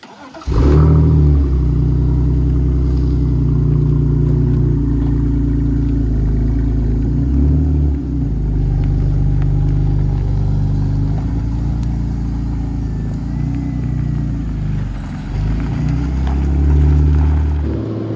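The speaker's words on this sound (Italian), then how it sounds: "andiamo a provare la macchina" A BMW E46 engine hums steadily from inside the cabin, rising and falling slightly as the car drives along, continuous and fairly loud.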